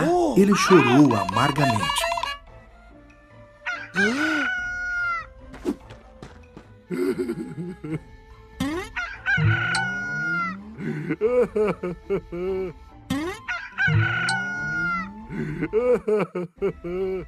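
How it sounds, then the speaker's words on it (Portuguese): An animated Bible cartoon rooster gives a loud wavering crow at the start, followed by someone narrating over soft background music. "Quando ouviu o galo cantar,"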